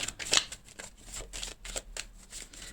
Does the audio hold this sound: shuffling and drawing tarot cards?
yes